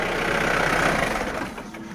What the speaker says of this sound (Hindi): तो अभी ये स्टार्ट हो रहा है पूरा एक सेल्फ में।